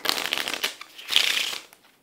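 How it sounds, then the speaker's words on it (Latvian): A deck of playing cards is shuffled during a card trick, producing two bursts of rapid riffling close to the listener, the second one longer, with a fading flutter at the end. "Samaisīsim."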